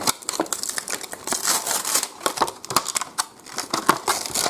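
3M double-sided tape being opened and its pieces pulled out one by one, a dense stream of crisp crinkling, peeling and tearing noises with sharp clicks, steady and close throughout.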